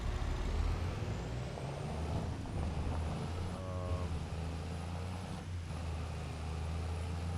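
A truck idles in Farming Simulator 25 with a low, steady engine rumble, close and continuous, with a brief hiss and a faint high whine over it.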